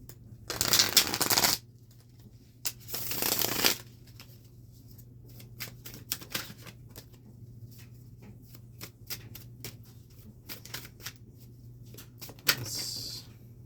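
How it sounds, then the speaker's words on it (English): Tarot cards shuffled in two quick riffling bursts, then a string of soft taps and slides as three cards are drawn and laid down, close and alone. "I'm going to go ahead and draw 3 cards for the collective."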